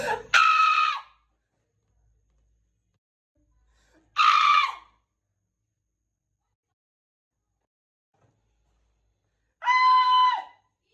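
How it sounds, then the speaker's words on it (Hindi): Three loud, high-pitched celebratory screams mark the end of exams, each short burst separated by several seconds of near silence. "इसी खुशी पे चीख होनी चाहिए।"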